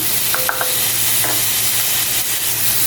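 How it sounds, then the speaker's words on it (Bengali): Chopped onion sizzles lightly in butter and garlic in a pan, a steady close frying hiss with a few brief clinks from stirring utensils and no talk. "এটাকে একটু হালকা ভেজে নেব আমি।"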